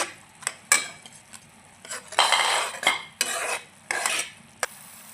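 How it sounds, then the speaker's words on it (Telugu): A spoon stirs rusk powder into sticky sugar syrup in a pan, giving close metallic scrapes and clinks in uneven strokes, with a few longer scraping sweeps near the middle. "ఇప్పుడు ఈ పౌడర్ వేసుకుందాం రస్కుల పౌడర్ ఒకసారి తిప్పుదాము"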